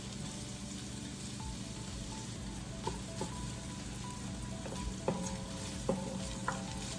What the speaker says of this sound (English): We've got our onion diced up, so we'll go ahead and add that in. Let that start to cook up a little bit.